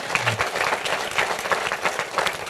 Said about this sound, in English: And so a big round of applause